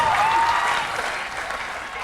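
An audience at a spoken-word show by Henry Rollins breaks into applause, with a burst of clapping that starts loud and gradually thins out. A faint tone briefly rides over the start.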